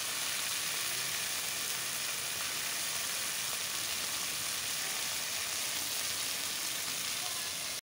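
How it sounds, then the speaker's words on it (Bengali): Batta fish frying in a little oil in a wok gives a steady, even sizzle that runs unbroken throughout, close and moderately loud, with no one talking. "দেখছেন আপনি আমি কীভাবে মাছটা ভাজছি অল্প তেলে"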